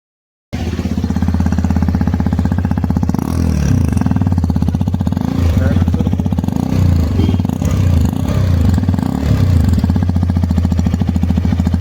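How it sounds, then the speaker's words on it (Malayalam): A Hero Xpulse 210 motorcycle idles loud and close at the exhaust, a steady rapid thumping putter that runs unbroken with a brief blip of revs partway through, alone without talk. "സൈലൻസർ എങ്ങനെയുണ്ട് അതിൻ്റെ സൗണ്ട് എങ്ങനെയുണ്ടെന്ന് നമുക്ക് കേട്ടോക്കാം"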